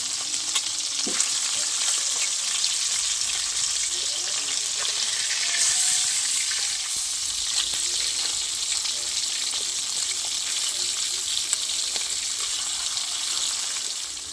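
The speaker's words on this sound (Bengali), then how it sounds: "মাছটা ভাজা হচ্ছে" Khoira fish fries in a wok with a continuous close sizzle, broken by occasional light stirring and utensil clicks.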